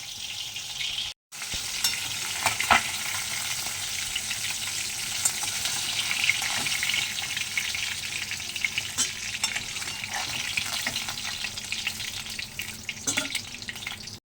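Dried red chillies and cumin seeds fry in hot oil left from frying fish, a steady bright sizzle running throughout with a brief cut near the start and occasional stirring clicks.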